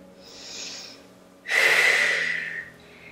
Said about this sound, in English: And one more deep breath here.